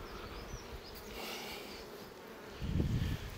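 Honeybees hum steadily around an opened beehive with its super exposed, a soft, close, continuous buzz with a brief louder burst as bees pass near.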